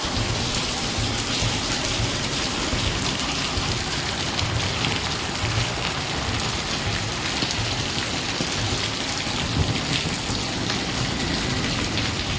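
Heavy rain pours steadily onto a deserted road, a dense, even hiss that stays loud and unbroken throughout with no voices.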